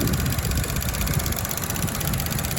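A car engine idles during an air-conditioning performance test, a steady close mechanical rumble running alone without change.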